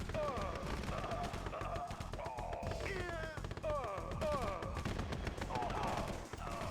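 Rapid infantry gunfire in a Red Alert 2 battle, dense bursts of shots crackling continuously and loudly under game music and effects, with voice-like tones mixed in.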